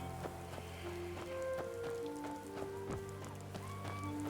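Rain falling in the video game Skyrim, a steady soft patter under quiet game music with faint tonal notes, no talking.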